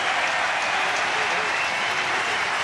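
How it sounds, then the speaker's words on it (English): A rugby crowd at a Munster versus Benetton match in Cork rises in a standing ovation, sustained loud applause filling the stadium continuously without a break. "Another standing ovation for the Munster crowd."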